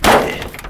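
The door of a worn shop truck is slammed shut, a single loud, close thud with a brief metallic ring that fades quickly.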